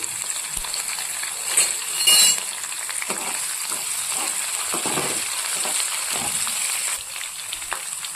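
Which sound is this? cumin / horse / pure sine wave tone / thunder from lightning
cumin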